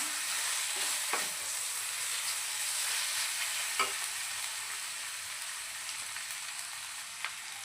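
Goat tripe (boti) frying in a pan, a steady continuous sizzle with a few sharp spits and crackles popping out, heard alone without talk.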